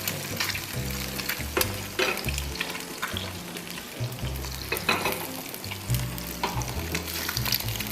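Eggs frying in oil in a home kitchen, giving a steady close crackling sizzle with occasional stirring and spatula scrapes throughout, no talk.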